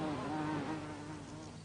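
Insects buzz around flowers, a continuous close droning hum with a wavering pitch as they hover and move, steady and fairly quiet with no talking.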